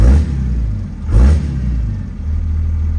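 A finished second-generation car drives on its first outing, its engine rumbling loud and steady with a slight surge of revving around the middle.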